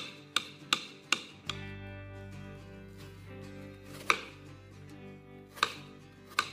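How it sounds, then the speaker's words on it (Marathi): A knife chops peeled fruit on a board for fruit salad, with a quick run of three sharp cuts, then sparser single chops over a low background hum, close and fairly quiet. "फळांची सालं काढून घेतली आपण आणि आता ही आपण कट करायची सगळी."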